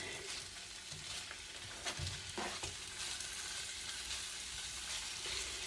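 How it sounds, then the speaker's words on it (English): Smoked kielbasa browns in a pan with a steady close sizzle and a few soft stirring scrapes, and no voices. "We're going to brown up some kielbasa."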